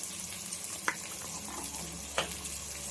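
Corn kernels frying in a pan with cumin powder, a steady soft sizzle with two brief sharper scrapes from stirring, moderately close and alone without talk.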